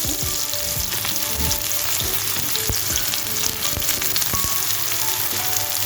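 Onions sizzle and crackle steadily in hot oil with browned sugar, a close, continuous frying hiss dotted with sharp pops and light stirring scrapes, no voices.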